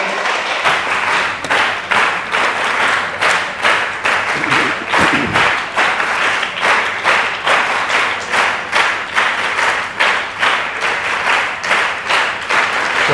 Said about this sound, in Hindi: ताली आप अपने जगाने के लिए बजाए होंगे